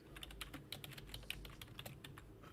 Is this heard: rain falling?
no